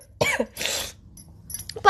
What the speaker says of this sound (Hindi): अभी खांस रही हो